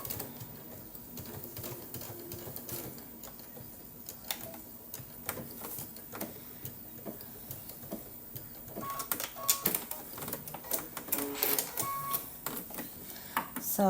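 An embroidery machine stitches a key fob wristlet in the hoop, giving a fast, rapid mechanical needle chatter with rhythmic clicks, fairly close and continuous, growing a little louder toward the end.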